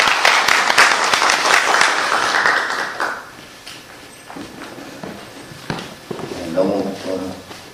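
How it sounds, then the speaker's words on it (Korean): Seminar attendees clap in a lively burst of applause for about three seconds, which then thins to scattered claps. A speaker's voice follows at the end. "큰 박수 부탁드리겠습니다."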